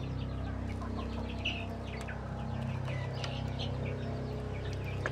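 A hen laying an egg gives soft, scattered clucks and chirps over a constant low hum, fairly close and not loud.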